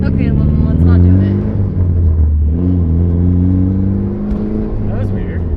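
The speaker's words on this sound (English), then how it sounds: "Sounds like it's a misfire." A Mitsubishi Evo engine revs under load and runs rough with a gurgling misfire. The loud, steady drone holds throughout at close range, with rising and falling pitch.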